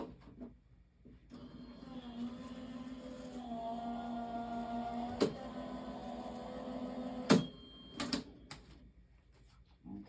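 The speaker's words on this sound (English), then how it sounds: "I'm just going to run this through my die cutting machine" Paper and metal plates run through a die cutting machine for embossing, heard as a steady mechanical hum with a rising drone, followed by a few sharp clunks and clicks toward the end.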